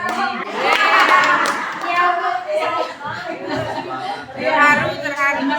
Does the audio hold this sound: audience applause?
yes